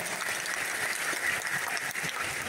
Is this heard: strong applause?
yes